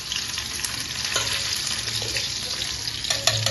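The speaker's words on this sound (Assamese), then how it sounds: "দাইলখিনি তেল মাৰি লওঁ, পিঁয়াজ আৰু তেজপাতেৰে।" Dal tempering in hot oil with onion and bay leaves, a continuous close sizzle with a few clinks of stirring near the end, no voices.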